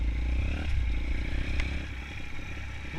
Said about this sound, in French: on va faire un petit tour de présentation du terrain avec la bécane